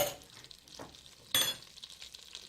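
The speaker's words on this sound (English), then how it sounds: "We add the butter, let it all melt down" Butter melting and sizzling in hot oil in a pan, ahead of the onions for a Thai butternut soup, with a soft steady fry and a brief brighter crackling burst partway through.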